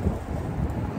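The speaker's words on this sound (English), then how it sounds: "Windy day." Gusty wind buffets the microphone on a windy day outside John's Roast Pork in Philadelphia, a steady low rumble filling the whole second with no speech.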